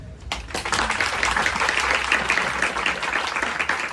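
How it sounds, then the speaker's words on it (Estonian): An audience at a panel discussion gives the panelists a round of applause, a full, steady burst of clapping that starts abruptly and continues evenly for several seconds. "Ma arvan, et meie panelistid on väärt üht väikest aplausi."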